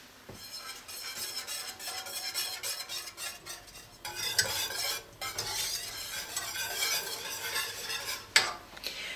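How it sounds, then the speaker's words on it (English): A whisk scrapes and clinks rapidly around a saucepan of simmering huli huli sauce, close and fairly quiet over a soft bubbling hiss, with bursts of stirring and a louder knock near the end. "We just need to whisk this periodically while it heats."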